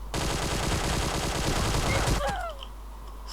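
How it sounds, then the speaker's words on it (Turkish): Rapid automatic gunfire in the mobile battle royale game PUBG Mobile, a dense, loud burst of shots for about two seconds that then breaks off into quieter in-game sounds. "Adam tam, tabancayla bizi vurdu ya görüyor musun?"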